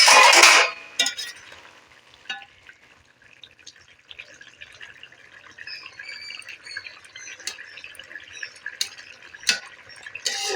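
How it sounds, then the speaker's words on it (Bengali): The lid comes off a cooking pot of bamboo shoot curry with a loud, brief clank and rush of steam up close, then quiet bubbling and small clinks of metal follow. "আমি ঢাকাটা খুলে দেখব কতটা সেদ্ধ হয়েছে"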